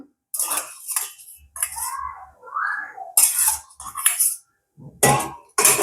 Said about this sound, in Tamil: முதல்ல நாங்கள் மிக்சி கப்பில் மிளகாயை போட்டுக்கொள்வோம்